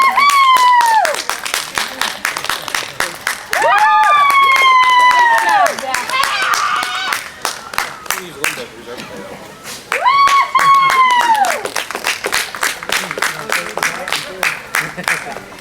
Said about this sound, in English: Let's give these a round of applause on the great group.